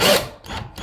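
A cordless drill drives drywall screws into galvanized sheet steel, a loud whirring burst at the start followed by two shorter pulses of motor whine and grinding, close up with no talk.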